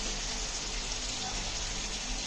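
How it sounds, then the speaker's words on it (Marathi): Steady rain falls outside during the monsoon as a continuous, even hiss of moderate loudness, heard from near a home kitchen where fish is frying. "पाऊस पण चांगला पडतोय."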